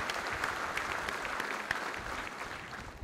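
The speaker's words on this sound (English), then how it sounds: "Now I'd like you all to give them a round of applause." A crowd at a military change-of-command ceremony at the Army War College gives a steady round of applause, even and moderately distant, heard at low level throughout.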